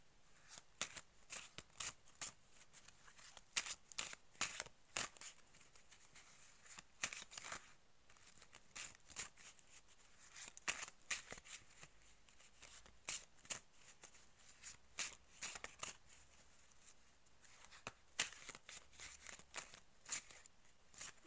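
Tarot cards being shuffled and drawn by hand, a long run of crisp, close, irregular riffling snaps and flicks with short pauses between bursts, quiet and alone.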